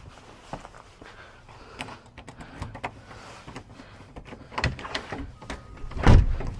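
A locksmith works a car door lock, producing a series of small clicks, taps and mechanical clatter, sporadic and close, with a louder clunk near the end as the door opens.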